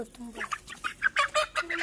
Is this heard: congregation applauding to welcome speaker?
no